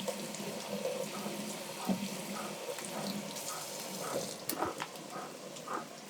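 Tap water streams into a kitchen sink as cherry tomatoes are rinsed, a soft steady splashing with occasional knocks and shifts as they are handled, fairly quiet and close.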